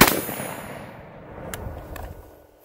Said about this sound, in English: God, this thing is so much fun to shoot.